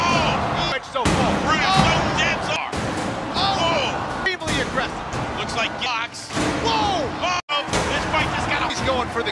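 Combat robot weapon strikes another robot in an arena fight, the impacts landing as loud slams and bangs buried under a constant crowd roar and excited commentary.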